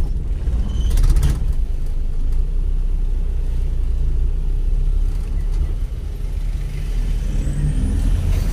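A tora-tora, a motorized road vehicle, running in heavy traffic: a continuous low engine rumble with road noise, a brief sharper burst early on and a faint rising whine near the end.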